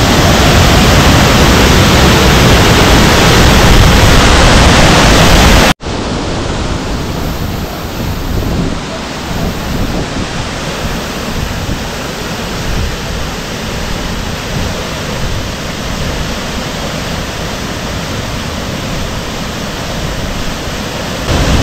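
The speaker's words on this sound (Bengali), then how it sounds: "প্রায় 30 ফুট উপরে পড়ছে এই সানাঘাগড়া ওয়াটারফল।" Sanaghagara waterfall drops roughly 30 feet, a loud, dense roar of falling water that fills the whole sound continuously, briefly cutting out and resuming slightly softer, with no voices.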